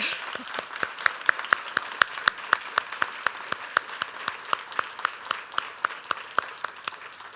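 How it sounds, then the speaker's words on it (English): A small audience applauding at a lecture event, sparse distinct handclaps in a fairly regular rhythm, moderately close and unaccompanied by talk. "I'm going to applaud that."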